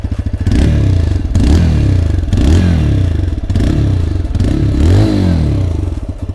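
TVS Raider 125 motorcycle engine running with a steady, loud exhaust note, rising and falling in several rev pulses that swell and ease over the span, close up with no talk.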